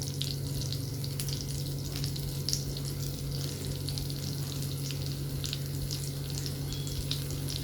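Brinjal slices fry in coconut oil with a steady, close sizzle and crackle that continues without a break. A low constant hum sits underneath, and no one speaks.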